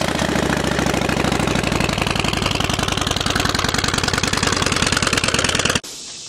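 A Harley motorcycle engine idles with a rapid, loping thump, loud and close, then stops abruptly just before the end.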